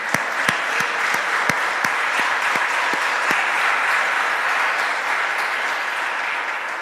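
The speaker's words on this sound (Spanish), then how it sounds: "¿Usted cree que Dios merece un aplauso?" Congregation in a church claps in unison, rhythmic sharp claps at first that dissolve into a steady wash of applause, fairly loud and continuous with no talk.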